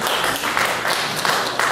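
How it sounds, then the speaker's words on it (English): Theater crowd at a comedy set clapping in a dense, continuous patter, with a few louder bursts of hands rising out of the steady applause. "Clap it up. Clap it up."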